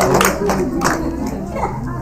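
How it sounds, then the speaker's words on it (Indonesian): A mosque audience claps during a lively religious Q&A session in Indonesia, a ragged burst of hands mixed with children's voices and crowd chatter nearby. "Oke, tepuk tangan dulu dong."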